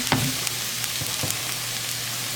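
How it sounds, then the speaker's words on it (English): Garlic sizzling steadily in a hot pan, a continuous close frying hiss with a few soft clicks of the pan near the start. "Our garlic will go into our pan, like so."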